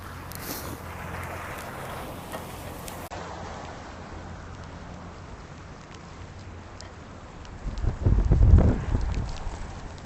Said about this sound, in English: I can see there's the wind picking up.